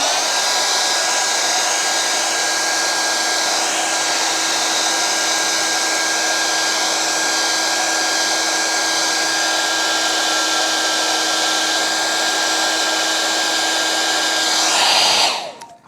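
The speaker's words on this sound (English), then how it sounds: "maybe I need to blow dry just a bit more here" A hair dryer blows steadily and loudly on a painting for about fifteen seconds, a continuous broadband whoosh with a fixed motor whine, then cuts off abruptly at the end.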